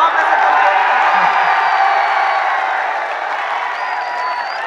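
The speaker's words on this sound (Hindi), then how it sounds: "इतनी कमजोर ताली से मैं बड़ी हिम्मत कर रहा हूं आप।" A thin, steady patter of applause from a mushaira audience in Karauli, Rajasthan, fairly loud and continuous at first, then easing slightly toward the end.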